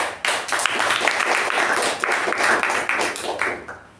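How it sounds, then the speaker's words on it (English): A Toastmasters meeting audience gives a round of applause, a lively burst of many hands clapping close by that swells, holds steady, then tapers off near the end. "A round of applause for them."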